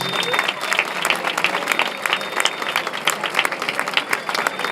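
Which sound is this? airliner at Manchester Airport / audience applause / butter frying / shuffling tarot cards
audience applause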